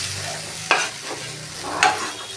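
Taro root chunks fry with masala and tomato in a pan, a soft steady sizzle broken by two distinct scraping stirs of a spatula.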